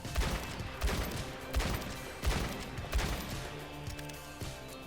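Ashe's rifle in the Overwatch video game fires aimed down sights, with about six sharp, heavy shots spaced at a slow, steady rhythm, each followed by a short ringing tail over a low game backdrop.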